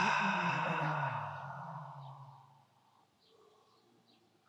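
One deep, slow breath comes close and clear, a long breathy exhale that fades into quiet while birds chirp faintly in the background.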